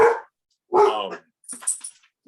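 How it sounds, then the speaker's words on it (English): Two loud household dogs bark at home as family members arrive, giving a few close, forceful barks separated by short pauses, then some fainter, higher yips. "My wife and daughter just got home, so I got two really loud dogs."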